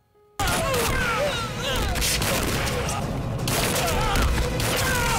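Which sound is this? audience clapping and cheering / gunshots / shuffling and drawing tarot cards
gunshots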